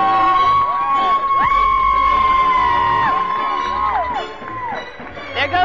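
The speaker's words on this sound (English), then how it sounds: "we cheer for Coach when he walks out" A crowd cheers as the coach walks out at a Danville Dashers hockey game, with whoops, yells and shouting layered over steady arena noise and a blaring tonal sound throughout.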